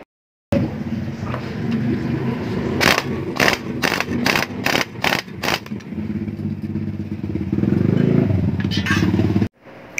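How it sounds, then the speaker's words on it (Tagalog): An air impact wrench tightens a motorcycle torque drive and clutch lining assembly. A loud, steady pneumatic whir is broken by a quick series of about seven hammering rattles, then rises into a sustained drone before cutting off abruptly. "gamitan muna natin siya ng impact and air impact wrench para mailak na maigi"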